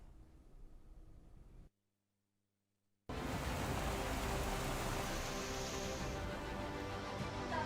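Heavy monsoon rain pouring down in a steady, dense hiss, broken by a brief silent gap before the downpour returns louder and continues unbroken.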